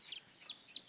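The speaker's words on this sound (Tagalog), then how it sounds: "Ayan, ang tatlong sisiw." Three high, thin peeps from newly hatched chicks, evenly spaced and clear against a quiet background, close to the listener.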